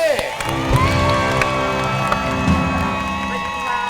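An audience at a Thai variety show applauds and cheers to welcome a guest, with whoops and crowd noise under music and a talking host.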